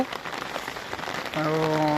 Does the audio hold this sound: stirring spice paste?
no